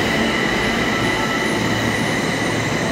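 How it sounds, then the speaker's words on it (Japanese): A Yokohama Municipal Subway Blue Line train at Maioka station's underground platform: a loud, continuous rumble of the cars with a steady high wheel squeal and tonal whine, close by and unbroken for the whole span. "列車が通過するようですが"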